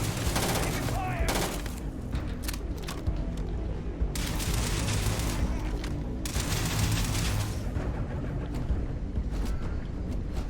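Dense gunfire and explosions fill a combat scene in the video game Starfield on very hard difficulty, with sustained loud volleys and heavy bursts throughout and a faint voice now and then.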